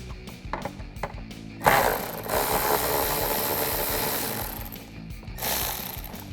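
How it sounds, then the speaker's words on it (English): An 8mm socket on a ratchet backs out screws on a Jeep Wrangler JL fender area, making clicking ratchet strokes up close, followed by a steadier, louder mechanical rasp for several seconds, with no talking. "now we're going to swap over to our 8mm socket, and we're going to remove these two screws right here"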